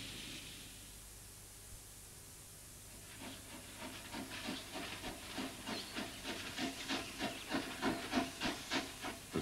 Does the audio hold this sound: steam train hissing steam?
yes